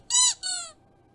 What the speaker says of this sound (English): When will you hear a squeak of a duck